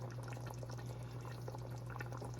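Water pours steadily and quietly into a pot of homemade curry chicken with potatoes and carrots, a soft continuous wash over a low hum, with no one speaking.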